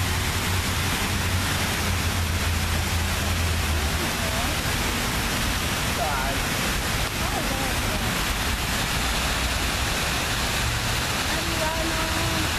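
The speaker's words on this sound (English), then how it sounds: "Courage, what do you think of the waterfall wall?" Water cascades down a tall water wall waterfall at a children's museum, a constant dense rushing wash. Faint voices and activity sit underneath it.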